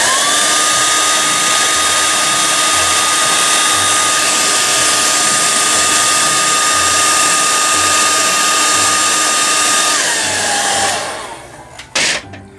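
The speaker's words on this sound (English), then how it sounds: "Let's dry it out with the hair dryer" A hair dryer drying paint on a custom action figure gives a loud, steady blowing whir that holds for about ten seconds, then winds down and stops, followed by a few faint clicks and knocks.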